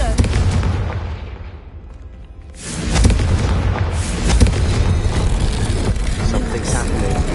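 A blasting-spell explosion booms in a Harry Potter video game, a heavy blast with rumbling debris that dips briefly, then surges into a sustained loud roar.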